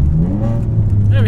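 Alfa Romeo 147 GTA with its Busso V6 blipping its revs during a heel-toe downshift, a brief loud rising engine note heard from inside the cabin.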